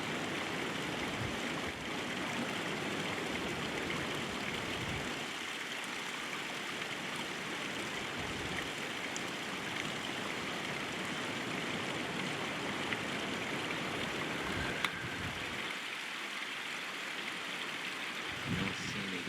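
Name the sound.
mountain creeks running at Courtright Reservoir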